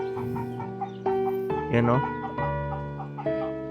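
Chicken clucking and squawking close by, several irregular calls, with someone talking briefly over them and a steady tonal hum underneath.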